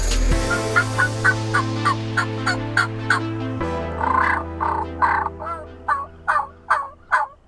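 Wild turkey gobblers gobble repeatedly on a Kansas hunt, a string of about a dozen loud, rattling gobbles at a steady rhythm that grow stronger and closer toward the end, heard alone without talk.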